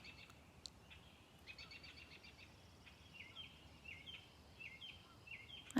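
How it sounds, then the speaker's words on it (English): Small birds chirp and sing in a quiet backyard, repeated short high trills and tweets spaced through the clip over faint background hiss, with no one speaking. "I hope you can hear all the birds"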